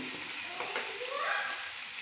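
Okra curry in a pan, turmeric just added, hisses with a steady sizzle as a spoon stirs through it, with scraping sweeps over the frying noise, close and moderately loud, no voices.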